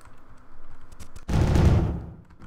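Spaceship weapons fire in the video game Starmade: light clicking shots at first, then a dense burst of rapid blasts that swells loud for about a second and fades, with no speech.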